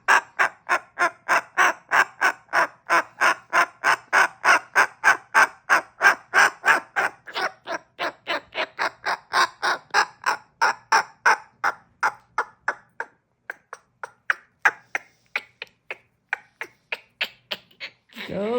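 Pet cockatoo produces a long run of rapid, evenly spaced harsh squawking pulses, loud and close at first, then thinning into sparser, more irregular calls toward the end.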